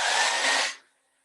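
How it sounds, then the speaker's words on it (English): A hair dryer drying paint blows as a loud, close, steady whoosh for under a second, then cuts off and winds down into quiet. "So apologies for the hairdryer noise."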